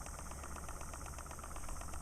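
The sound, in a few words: model International Harvester Titan hit and miss engine running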